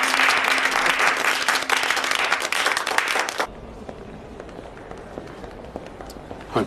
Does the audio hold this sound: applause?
yes